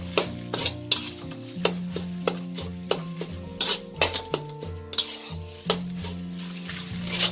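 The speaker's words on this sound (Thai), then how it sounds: "แล้วเราผัดค่ะเพื่อให้กระปิของเรานะมีกลิ่นหอมก่อนค่ะ" Thai shrimp paste (kapi) being stir-fried in a pan: a spatula scrapes and clacks against the metal in repeated sharp strokes over a soft, continuous sizzle, close up and with no voices.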